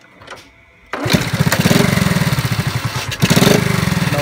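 A motorcycle engine starts with a sudden loud burst after a quiet moment, then idles in a steady, close, chugging rhythm with a brief dip and recovery, following a carburetor adjustment.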